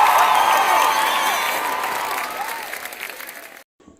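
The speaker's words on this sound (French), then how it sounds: "Un max d'applaudissements" Audience applause mixed with cheering and whoops at a French idol-style talent competition elimination round, loud and sustained before tapering and cutting off abruptly near the end.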